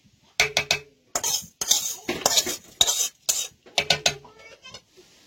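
Fried mung dal and atap rice go into a pot and are stirred, producing close, rhythmic bursts of scraping and clattering spoon strokes separated by brief pauses, with no talk.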